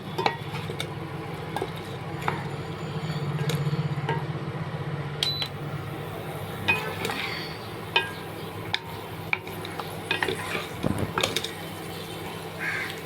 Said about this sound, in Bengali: এবার আমি এটা নাড়ছি